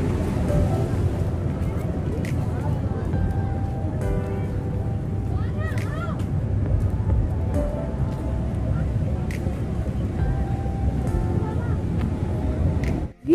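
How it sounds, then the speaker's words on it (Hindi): Water surging out of a dam under pressure during a family outing, a loud continuous roar of rushing water heard up close and steady throughout, with faint wind buffeting. "गाइस वहां देखो कितना प्रेशर से पानी जा रहा है।"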